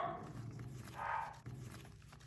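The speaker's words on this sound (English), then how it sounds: "That Bella, our new puppy, found her lungs." A new puppy barks and yelps faintly from another room, with a few short high yips over a quiet household background.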